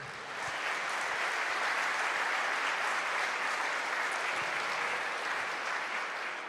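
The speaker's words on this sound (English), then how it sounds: "let's applaud, I agree, let's please applaud." Sustained audience applause at a tech conference on a main stage, a dense, even wash of many hands clapping for several seconds, fairly distant and without speech.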